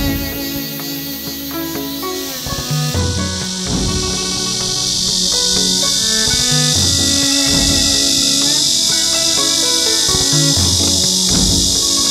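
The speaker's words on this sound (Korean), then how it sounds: "8월의 매미들이 늘어지게 운다" Cicadas drone loudly through an August afternoon at the fir-lined entrance to Myeongbongsa temple in Yecheon, a dense continuous high buzz swelling in after a few seconds and holding steady over music playing underneath.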